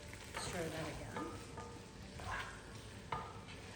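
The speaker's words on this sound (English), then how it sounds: "Stir that again." A spiced Indian dish sizzles steadily in a pan while a spoon stirs it now and then, scraping and clinking softly, all close and fairly quiet with faint background noise.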